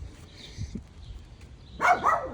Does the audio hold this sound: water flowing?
no